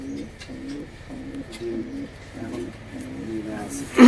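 A large pigeon in breeding condition coos in a steady rhythm, low throaty notes repeating about twice a second, close and clear over quiet background, ending in a sudden loud bump.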